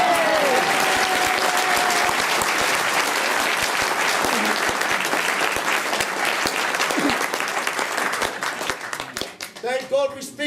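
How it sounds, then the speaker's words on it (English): Audience applause at a Maori village performance in Rotorua, a dense, steady round of clapping that holds loud for most of the stretch, then thins and fades near the end as a voice begins to speak. "You can clap"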